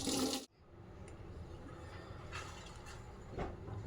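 Cleaned prawns being washed in water, a steady running, rushing wash after a brief loud splash at the start, with occasional soft sloshes, close and moderately quiet.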